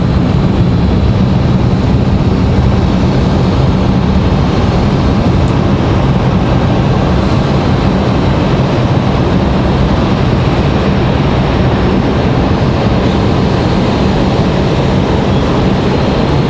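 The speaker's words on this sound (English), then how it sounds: "let's turn up the sound for the Dreamliner" A Boeing 787 Dreamliner at Raleigh-Durham airport, a loud, steady jet engine roar with dense broadband rumble filling the whole stretch, heard close and alone without talk.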